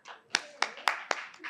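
At a press conference on education exam results, a handful of sharp, separate handclaps ring out close by in an uneven rhythm, with nobody speaking.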